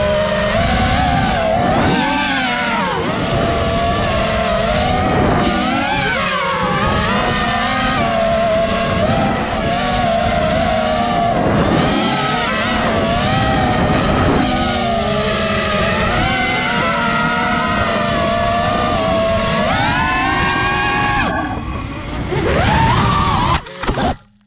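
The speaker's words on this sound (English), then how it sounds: "Do you want to fly a drone like this?" A flying drone gives a loud, continuous motor whine whose pitch rises and falls as it speeds up and slows down, close by throughout.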